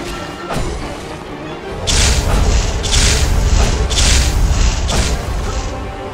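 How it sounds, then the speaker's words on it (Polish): Deep rumbling booms roll through a loud, dense wash of noise, with several heavy blasts spaced roughly a second apart, no talking, as a boss arena explodes in the video game The Last Faith. "Jakby cała arena dosłownie wybuchła."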